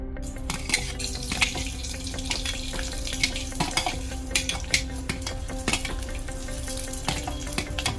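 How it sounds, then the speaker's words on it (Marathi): Dry masala ingredients for a Malvani shark fish curry roast in a little oil over low gas, a close, steady sizzle overlaid with frequent scraping and metallic clinks of a spoon against the pan. "पहिल्यांदा आपण भाजण्याचं जे साहित्य घेतलंय ते सगळं भाजून घेऊया"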